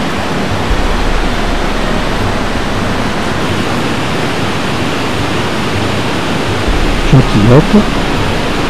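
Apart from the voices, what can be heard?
waterfall on a river, 5 or 6 metres high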